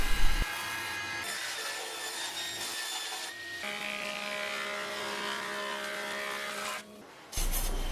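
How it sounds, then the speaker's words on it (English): Timber boards are dressed on a power planer, giving a steady, fairly loud whirring cut that drops in pitch as each board feeds through, with brief pauses between passes and a clunk at the end. "I started out by dressing up most of the timber."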